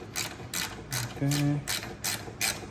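Wrench ratcheting on brake caliper bolts of a 2010–2015 BMW 750i during rear rotor and pad replacement: a run of quick, close clicking bursts in a steady rhythm, with a brief spoken word.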